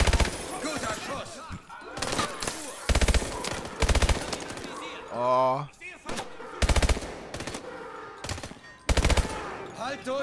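Loud bursts of automatic gunfire in Call of Duty: Advanced Warfare, several short, heavy volleys separated by gaps, with a brief whooshing effect midway and a voice exclaiming once.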